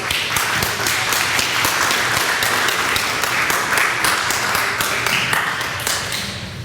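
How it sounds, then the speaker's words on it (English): An audience at an East Coast Greenway Connecticut state committee meeting claps steadily, a close, full round of applause with a few sharper individual claps, tapering slightly toward the end. "A big round of applause for Bruce Donald."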